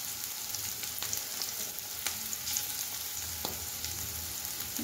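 Chopped ginger sizzling in hot oil for a Bengali mixed vegetable dal, a soft steady frying hiss with a few faint stirring taps, fairly quiet and without talk.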